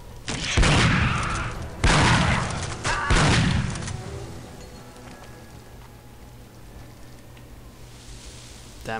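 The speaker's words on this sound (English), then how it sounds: "Bullets." Three loud bursts of automatic gunfire ring out in the video game Aliens vs. Predator 2, each about a second long and evenly spaced, followed by a low steady ambient hum.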